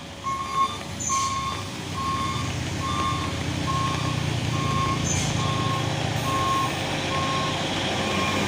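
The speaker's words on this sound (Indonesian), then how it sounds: "Dan ini juga ada satu unit truk pusoren membawa bulldozer." A truck carrying a bulldozer climbs a hill in light drizzle, its engine a steady low drone under a loud, evenly spaced reversing-style beep that repeats about every second, with a brief air hiss near the start.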